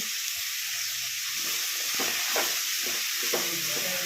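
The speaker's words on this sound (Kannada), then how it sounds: "ಚೆನ್ನಾಗಿ ಬೇಯ್ತಾ ಇದೆ ಹಾಗೆ ಸಿಮ್ಮಲ್ಲೇ ಇಟ್ಕೊಂಡು ಚೆನ್ನಾಗಿ ಫ್ರೈ ಮಾಡ್ಕೊಳ್ತೀನಿ" Drumstick leaves and egg bhurji frying in a pan over low heat, a bright continuous sizzle and hiss close up, with a few soft stirring scrapes and no talking.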